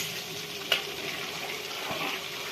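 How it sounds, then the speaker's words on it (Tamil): Flour sizzles gently in ghee on a slow flame while being stirred, a steady soft hiss with a single faint scrape of the spoon, close and without talk. "மாவு நல்லா கலர் சேஞ்ச் ஆகிற வரைக்கும் ஸ்லோ ஃப்ளேமில் வச்சு இந்த மாதிரி கிண்டி விட்டுக்கிட்டே இருக்கலாம்."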